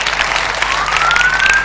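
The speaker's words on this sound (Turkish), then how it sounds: "Alkışlar Hamiyet gelsin." Studio audience on a Turkish television variety show breaks into steady, dense applause, with a thin rising whistle cutting through the clapping near the end.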